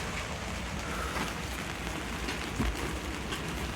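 Steady rain pattering on a small lightweight house built on a kei truck bed, a dense continuous hiss heard from inside, with a single louder drip or knock near the end.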